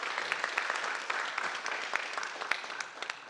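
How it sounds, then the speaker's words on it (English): Audience applause at a disability employment awareness summit, a dense, steady clapping from a crowd that holds for a few seconds and thins slightly at the end. "if we could again give Kristy another round of applause"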